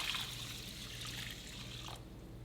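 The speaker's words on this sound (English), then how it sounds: "I'm gonna add my rice and then 3 cups of water." Tap water running into a pot of washed jasmine rice, a steady trickling pour that stops near the end of the brief, fairly quiet stretch.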